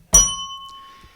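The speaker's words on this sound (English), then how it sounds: "that bell is as crisp as ever" A single crisp bell strike rings out clearly, then decays into a long sustained shimmering tone that fades away, heard alone without talk.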